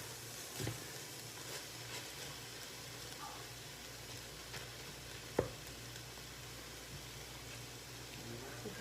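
Meat browning in a pot for spaghetti sauce, a steady low sizzle and crackle running throughout with occasional stir clinks and one sharp tap near the end.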